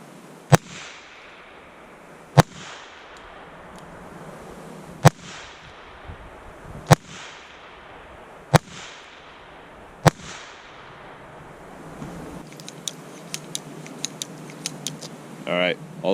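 A .22LR pistol fires six sharp, loud, evenly spaced shots at a range, each a brief crack, followed by quieter metallic clicks and handling noises near the end.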